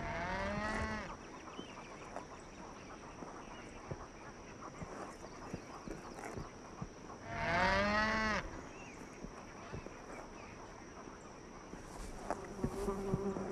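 Cattle on a ranch moo twice, long low calls several seconds apart, over a steady hum of flying insects.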